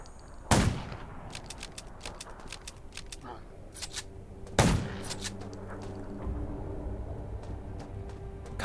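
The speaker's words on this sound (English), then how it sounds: "Gunshots will attract more zombies." Two sharp gunshots ring out a few seconds apart, each followed by a fading tail, with scattered clicks and a low steady hum between them.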